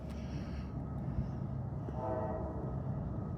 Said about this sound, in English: Oh, I hear the train. Do you hear it? Train's blowing its whistle.